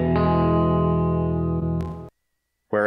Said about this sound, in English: Okay, and if I turn on the reverb